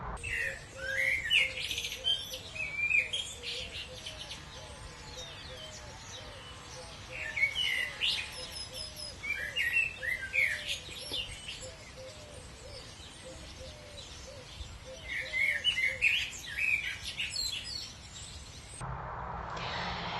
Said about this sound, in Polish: A może zamiast muzyki dodamy tak zwany ambient, czyli dźwięk przypominający atmosferę miejsca. Kuleczka jest w lesie